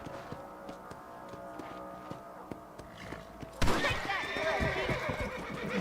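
Horse in the Red Dead Redemption video game: a loud whinny bursts in partway through, followed by hoof clops and game ambience, with quiet speech before it.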